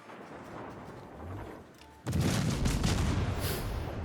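Naval guns on a Tier VII Italian cruiser in World of Warships fire after a quiet stretch with a distant low rumble, erupting into a loud, sustained boom and roar of gunfire.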